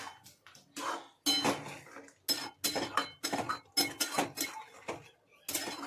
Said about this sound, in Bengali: এবারে এটাকে খুব ভালো করে কষিয়ে নিতে হবে।